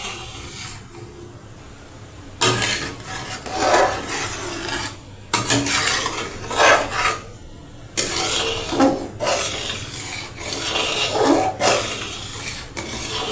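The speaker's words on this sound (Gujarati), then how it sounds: "દૂધ ન બળી જાય ત્યાં સુધી આ રીતે હલાવતા રહેવું." A spoon stirs milk in a pot for kulfi, making a close, steady run of scraping and rubbing strokes against the pot base, repeated in rhythmic sweeps with no talking.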